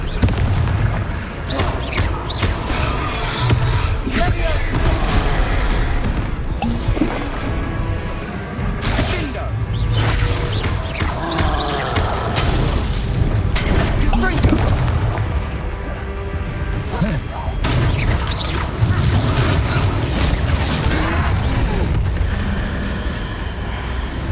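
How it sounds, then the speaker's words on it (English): Confringo fire spells striking a troll in the video game Hogwarts Legacy, loud booming impacts over a dense, continuous battle soundscape with voices in the mix. "A few more hits should do the job. Confringo."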